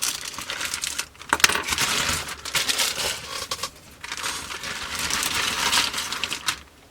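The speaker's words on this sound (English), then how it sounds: "the Airfix parts are contained in a single large bag, so let's open this and get on with our build" A large plastic bag of Airfix model kit parts for a 1/72 scale Buccaneer S.2B is torn open and handled, with loud, close crinkling and rustling and a few sharp snaps, broken by a short lull.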